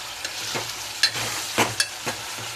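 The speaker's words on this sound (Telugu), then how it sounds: "పీసెస్ మంచిగా ఉడుకుతున్నాయి ఇట్లా మంచిగా ఫ్రై అయినప్పుడు" Chicken pieces frying in a pan, a steady low sizzle broken by a handful of sharp utensil taps and scrapes spaced through it.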